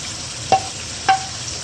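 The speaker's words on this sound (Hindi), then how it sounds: "और इसको अच्छी तरह भूनेंगे और अब हम इसमें जो भिंडी हमने फ्राई की थी वो भी ऐड कर लेंगे।" Goat meat masala with okra fries in a pan over a steady soft sizzle, while a spoon scrapes the pan in two brief distinct strokes.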